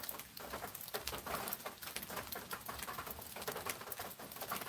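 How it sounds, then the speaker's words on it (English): Steady rain falling on a rainy day in Georgia, a dense patter with scattered sharper drips, close and continuous with no talking; a faint cooing bird may sound in the background. "Y'all can listen to the rainfall."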